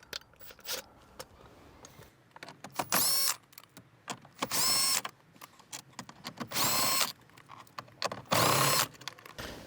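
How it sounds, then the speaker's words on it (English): Power tool spinning a 10mm socket to remove bolts inside a 2022 Toyota 4Runner, repeated short high whirring bursts separated by clicks and handling noises, close and fairly loud with no talk. "Let's remove it using a 10mm socket."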